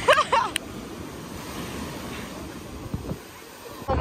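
Broadband surf rolls steadily onto a beach with wind buffeting the microphone, while a person's voice is briefly heard at the start.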